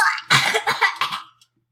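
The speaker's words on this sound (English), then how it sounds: "I'm trying to clear my throat" A single rough throat clearing, close and loud, rasping for about a second before cutting off to silence.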